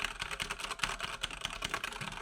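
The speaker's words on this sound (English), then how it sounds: "It is paired, so we open up and we can start to type." Rapid typing on a wireless 104-key mechanical gaming keyboard with red switches, a steady run of close, crisp keystroke clicks with no talking.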